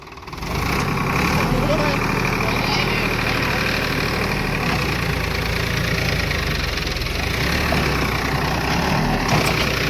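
Massey and Sonalika tractors in a pulling contest, a diesel engine running loud and close with a steady rumbling, knocking idle that continues without a break, while people talk and shout over it.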